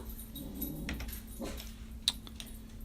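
A pet dog barks indoors, two or three short, distant barks over a low steady hum, with no one speaking.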